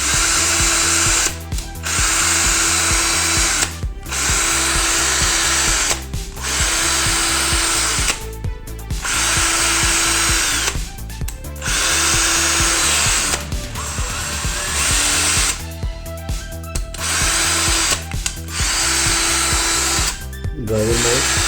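A Ryobi cordless drill runs in hammer mode after repair, in repeated loud buzzing, rattling bursts a couple of seconds long, each cut by short pauses when the trigger is released.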